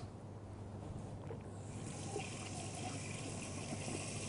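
Ginger root being washed under a running tap, a steady broadband rush of water that grows fuller and brighter partway through, continuous and close with no talking.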